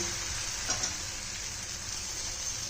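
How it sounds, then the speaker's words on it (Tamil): Batter for an instant finger millet and wheat dosa sizzles steadily on a hot griddle, a continuous close frying hiss with no talk. "அப்படி நெக்ஸ்ட்டு தோசை ஊற்றிக்கிடுவோம். கல் சூடாக தான் இருக்குது."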